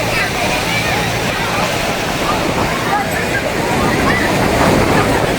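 Sea waves surging onto the temple beach at Tiruchendur, a steady broadband roar of surf and splashing that runs the whole way through, with crowd noise and voices blended into the wash.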